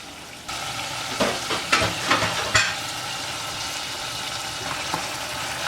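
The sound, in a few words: green pepper frying in spicy Ghanaian mixture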